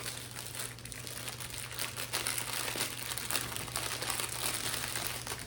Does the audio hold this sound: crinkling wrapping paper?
yes